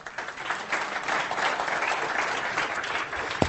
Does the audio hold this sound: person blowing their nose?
no